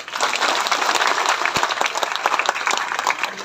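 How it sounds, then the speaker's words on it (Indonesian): Church congregation at a men's fellowship service clapping together, dense sustained applause from a crowd filling the room at steady loudness. "Tepuk tangan dulu."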